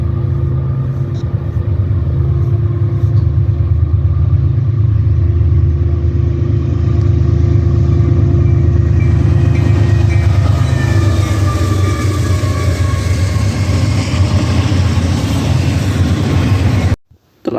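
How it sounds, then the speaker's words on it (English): A CSX intermodal freight train hauled by a GE locomotive rolls past at night with a steady, loud rumble and a sustained low drone that holds throughout, stopping abruptly at the end. "Here comes another CSX intermodal with GE Power."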